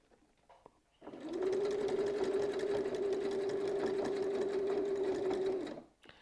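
A sewing machine stitches a quilt guided by a rotating Mandala pattern guide, starting up after a quiet moment and running as a loud, steady, buzzing whir for about four and a half seconds before stopping.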